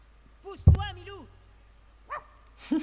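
A pet dog named Milou gives a few short yips and whimpering barks close by, a sharp burst followed by scattered brief yelps, with a person speaking in French around them.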